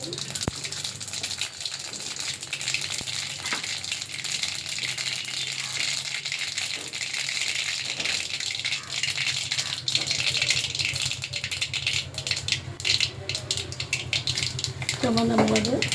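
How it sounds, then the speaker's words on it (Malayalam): Mustard seeds splutter and crackle in hot coconut oil for sambar tempering, a dense, steady popping sizzle close to the pan that runs throughout, with a brief voice near the end. "വെളിച്ചെണ്ണയിൽ കടുക് പൊട്ടിക്കുക."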